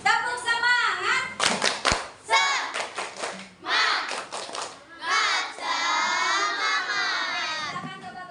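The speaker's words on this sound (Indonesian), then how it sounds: "Yuk, tepuk semangat." A group of students performs a spirit clap, bursts of rhythmic clapping in sets alternating with loud chanting and shouting voices, energetic and close.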